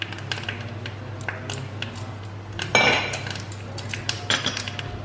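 Mustard seeds, urad dal, curry leaves and dried red chillies frying in hot coconut oil in a pan: scattered sharp pops and sputters with metal clinks, and one louder burst of crackling sizzle near the middle.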